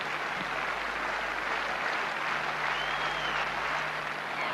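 A large stadium crowd at a decathlon high jump applauds steadily, a dense, even wash of clapping that carries without break, with no voices standing out.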